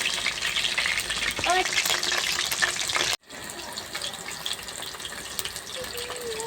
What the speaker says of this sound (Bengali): এই আর একটু ভাজা হলেই হয়ে যাবে।